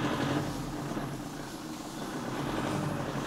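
A used car's engine runs roughly, giving off a steady low drone and rumble close by, with no one talking over it.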